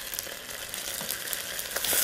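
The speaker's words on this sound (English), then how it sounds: "I'm going to take my sweet potatoes and I'm just going to take them out and put them directly in, cover my pot" Sweet potatoes and chicken sizzle in a covered pot, a steady close hiss of frying with faint crackles throughout.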